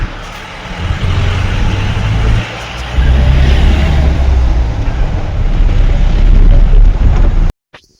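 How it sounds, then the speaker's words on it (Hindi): A taxi driving along a mountain road toward Gaurikund, a steady loud engine and road rumble heard from inside the vehicle for several seconds, cutting off abruptly near the end. "गाड़ी चल रही है"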